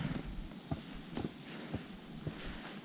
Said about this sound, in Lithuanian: vėjas po truputį stiprėja